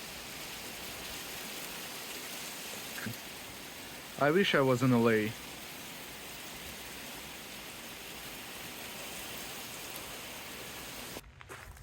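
Steady rain falls in Seattle as an even wash of patter across the whole stretch, with a brief spoken remark partway through.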